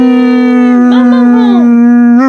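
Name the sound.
dog barking or howling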